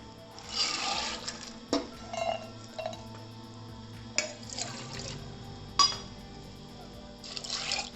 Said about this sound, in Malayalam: പയർ വേവാനുള്ള വെള്ളം വെച്ചിട്ട്